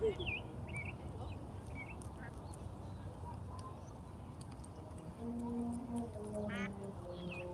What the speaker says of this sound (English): Some ducks here.